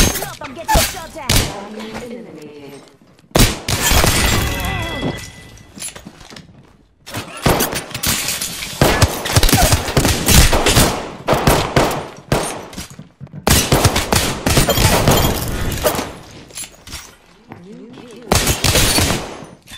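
Dense bursts of automatic and single-shot gunfire from an Apex Legends firefight, loud and near, in rapid volleys separated by brief lulls, with occasional thuds and a voice talking underneath.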